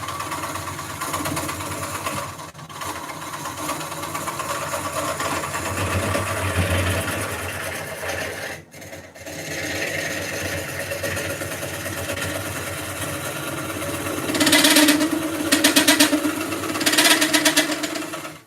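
A wood lathe spins a live edge bowl blank while the turning tool chatters and rattles against the wood, a steady mechanical whir with a brief pause midway and harsher, brighter scraping bursts near the end; no talking.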